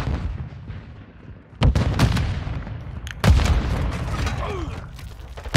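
Detonated charge exploding in a shooter video game, heard as two sharp booming blasts about a second and a half apart over a steady rumbling battle backdrop, with another burst at the very end.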